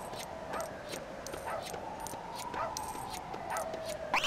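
A dog in the video game LEGO City Undercover yips and barks repeatedly in quick, evenly spaced bursts, fairly faint over a steady background hum.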